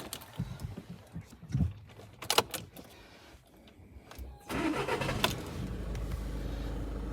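A car engine is started with the key after some quiet handling noises inside the cabin, then settles into a low, steady run that continues to the end.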